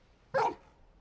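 Torgal, a dog in Final Fantasy XVI, gives a single short bark, moderately close and brief, against a quiet background.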